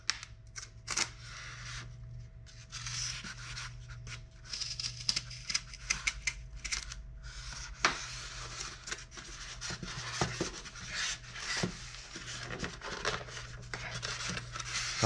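Tape is cut and a hard foam case holding a PVC sculpture is pried open, giving sustained scraping, rubbing and crinkling with sharp clicks and snaps throughout, close up.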